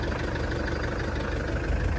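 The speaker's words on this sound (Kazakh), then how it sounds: "Мотор жүрүп турган үнү." A truck engine idles close by, a low, steady rumble with a faint rhythmic knock throughout; no voices.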